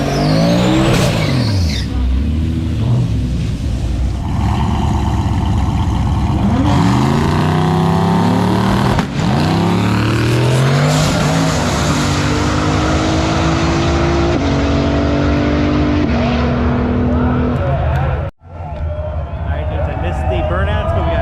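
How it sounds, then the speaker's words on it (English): Street cars doing burnouts at a drag strip, with loud sustained engine roar, revving pitch sweeps and tire squeal that run nearly continuously, briefly cutting out near the end before resuming. "Burnouts"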